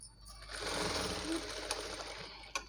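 A sewing machine stitches a blouse's main fabric to its lining in a steady, continuous whirring run. It is close and fairly loud, with a brief stop and restart near the end.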